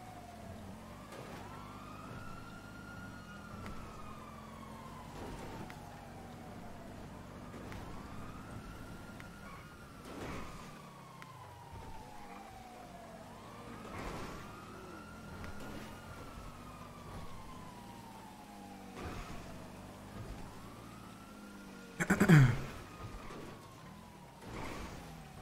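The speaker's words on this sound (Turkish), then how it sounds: "Siren arttı." Police sirens wail during a bank robbery in a video game, rising and falling in repeated long sweeping cycles with layered siren tones and a sharp loud crash near the end.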